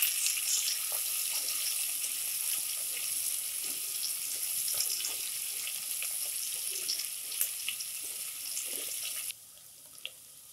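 Finely chopped onion fries in hot oil for a veg tehri rice dish, giving a steady bright sizzle with small crackles that drops away abruptly near the end.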